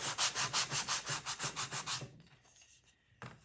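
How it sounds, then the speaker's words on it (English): A very rough sanding sponge is rubbed over a painted tin vase, giving about a dozen quick, even back-and-forth scrapes that stop abruptly, then a pause and one more short rub. "I'm using just a really rough sanding sponge"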